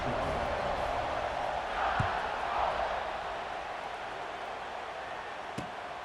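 Stadium crowd noise from the video game EA Sports College Football 26, a steady broad roar of fans that swells briefly mid-clip before easing, with a couple of sharp knocks.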